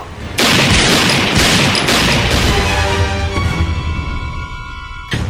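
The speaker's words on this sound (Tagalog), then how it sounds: "pinapuputukan po ni Don Elpidio si Sargento Melgar" Loud, dense gunfire effect for a Filipino radio horror drama, a sustained burst of shots and booming blasts that fills nearly the whole stretch, continuous and harsh with no voices over it.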